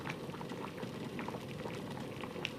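Bamboo shoot and potato boiling in water in a pot, a continuous low bubbling burble with small popping blips, steady and close, with no voices.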